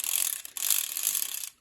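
A Lego Technic rubber band mechanism on a speedster is cranked, making a fast, close ratcheting clatter that runs steadily for over a second, breaks briefly once, then stops, with no voices.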